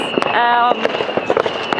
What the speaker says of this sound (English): I'm outside and just enjoying the fireworks